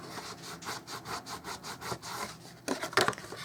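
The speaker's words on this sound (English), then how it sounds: "You're just going to fold in, give them a burnish" Rhythmic rubbing strokes as folded paper corners are burnished by hand in card-making, about ten even close swipes followed by a sharper, brighter scraping burst near the end, with no talk.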